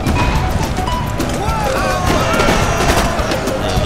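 Massed musket infantry in Empire Total War fire a volley into routing troops, a dense, loud crackle of overlapping shots and crashes rolling continuously through the battle din.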